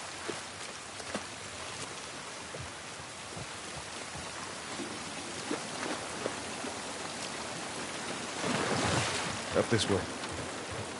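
Steady rain in The Last of Us Remake falls as a soft, even hiss that swells toward the end with a few light splashes, while a brief spoken line comes over it.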